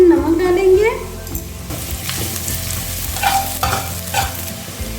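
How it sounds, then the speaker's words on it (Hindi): Chopped onions fry with half a tablespoon of salt in a pan for a dhaba-style black chickpea curry, a steady sizzle with stirring scrapes, alone and close, with some tonal music-like sounds early on. "प्याज को हल्का गोल्डन ब्राउन होने तक भूनेंगे"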